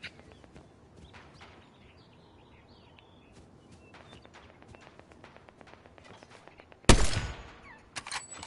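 A sudden loud burst of gunfire erupts close by in a Fortnite match, followed by a trailing echo, after a stretch of quiet footsteps and faint bird calls.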